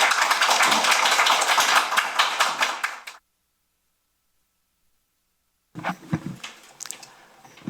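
An audience claps to welcome a guest lecturer at a public talk: a dense, steady burst of applause for about three seconds, a sudden silence, then scattered softer claps returning.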